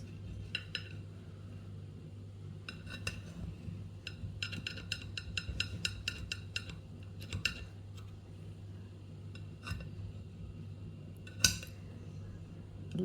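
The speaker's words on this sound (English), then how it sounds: "So I'm just gonna cut a slice." A knife saws through a slice of warm homemade oatmeal bread, giving quiet repeated scraping strokes in short rhythmic bursts over a steady low hum, with a sharper clink near the end.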